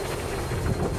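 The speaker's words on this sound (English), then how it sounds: "A bit windy actually." Wind buffets the microphone on a snowy outdoor walk, a steady broadband rushing and rumbling with no voices.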